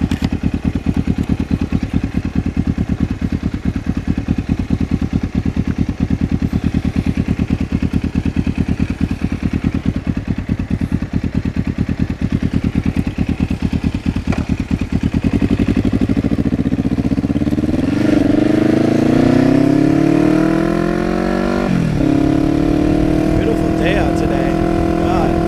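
A Kawasaki 454 LTD motorcycle cruising on the road, its engine a loud, steady, throbbing rumble that later rises and falls in pitch as the rider changes speed and shifts gears, with wind noise around it.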